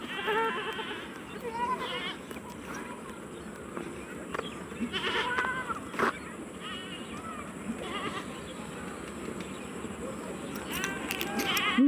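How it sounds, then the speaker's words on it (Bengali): Several goats bleat repeatedly in an open field on an afternoon, their calls rising over a constant busy outdoor background throughout. "এই ছাগলগুলো কত সুন্দর ঢক দেখেছো।"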